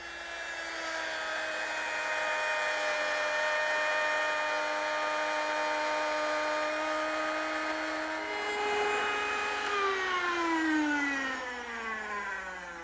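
A router mounted under a router table cuts the male part of a dovetail joint with a dovetail bit, a loud steady high whine that shifts pitch partway through as the bit loads into the wood, with no speech.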